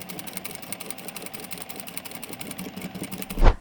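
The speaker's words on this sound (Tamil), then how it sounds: "ஒன் பை எயிட் அளவுள்ள ஹெம்மிங் ப்ரெஷர் புட் யூஸ் பண்ணி தைக்கிறேன்" A power sewing machine fitted with a 1/8-inch hemming presser foot runs in a steady, rapid mechanical whir of continuous stitching, close and alone, ending with a brief louder knock.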